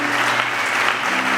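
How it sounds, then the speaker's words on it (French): A church audience at a theology graduation ceremony bursts into dense, loud applause, a continuous wash of many hands clapping close by, with faint voices mixed in. "Est-ce qu'on peut acclamer la parole de Dieu?"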